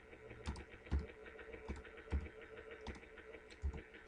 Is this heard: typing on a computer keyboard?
yes